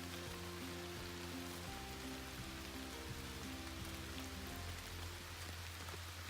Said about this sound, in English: With the rain, it's not rained too bad on us.